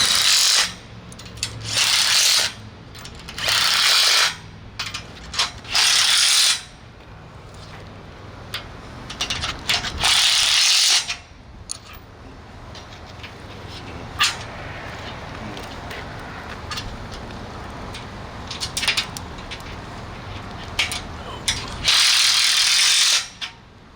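Repeated bursts of a ratchet-and-pawl mechanism as new cable is tightened inside a mast, loud clicking runs of a few seconds each separated by quieter stretches of low rumble and background noise.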